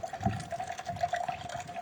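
Water pours close by into a drink concentrate being mixed one part to seven parts water, a steady splashing, gurgling stream that lasts the whole two seconds with no talking.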